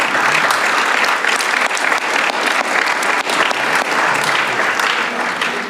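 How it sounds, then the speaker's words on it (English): Steady, dense applause from an audience at a Sunday program gathering, loud and sustained throughout with no speech on top. "a round of applause to all of them"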